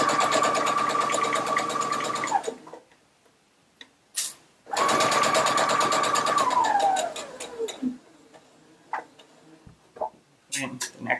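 A sewing machine chain-pieces pairs of quilt squares for a disappearing nine-patch: two loud, steady motor runs of a few seconds each. The second run winds down with falling pitch, followed by scattered clicks and handling noises.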